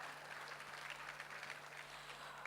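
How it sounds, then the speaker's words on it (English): An audience at an annual company meet applauds, a faint, even wash of clapping from a distance with a low hum running beneath. "let's hear one big, real round of applause for Jimpy and Amit"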